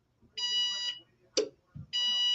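A kitchen microwave timer gives high electronic beeps in long sustained bursts, one then a pause and another, with brief knocks and muffled handling noises in the gap between them.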